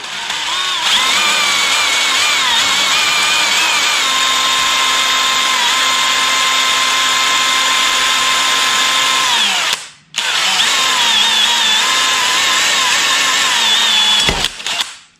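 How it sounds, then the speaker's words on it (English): A power drill bores screw holes for mounting a Rockford Fosgate amplifier on a Kawasaki Vaquero motorcycle, a loud, steady high whine running about ten seconds, cutting out briefly, then spinning up again. "Now that I've got the holes drilled"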